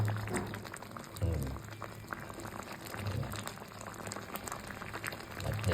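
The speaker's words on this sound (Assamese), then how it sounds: "উতলি হৈ গ'ল" Mati dal (black gram lentils) boiling in a pot, a steady close bubbling and gurgling with occasional louder bursts, no voices.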